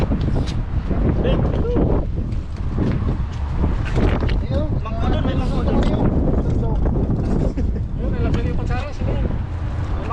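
Strong gusty wind buffets the microphone in a steady roar, with voices talking underneath.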